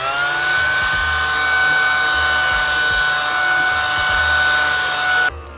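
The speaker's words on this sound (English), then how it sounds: "I did want to talk about this little mushroom vacuum that I got." A small mushroom-shaped desk vacuum runs in an artist's studio, a steady close whirring hum with a high motor whine that holds for several seconds and then cuts off abruptly.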